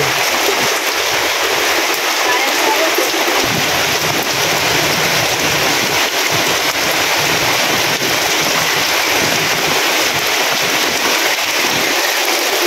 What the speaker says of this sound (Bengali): আরো বাড়তেছে বৃষ্টি আনছি।